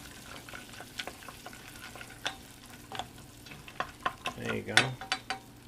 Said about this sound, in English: now we're going to just mix up this, these nuts here. Get them nice and crispy